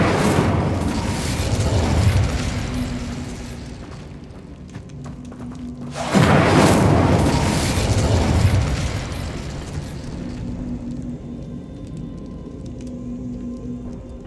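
Incendio fire spell bursting in Hogwarts Legacy, two heavy roaring blasts of flame several seconds apart, each swelling loudly and fading into a low rumble over game ambience.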